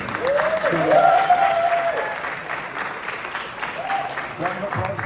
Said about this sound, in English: round of applause, please, for Josh and all our panelists